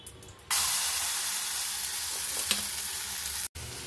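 Chopped banana flower drops into hot oil tempered with black cumin and asafoetida, setting off a sudden loud sizzle that holds as a steady close hiss before cutting off abruptly near the end.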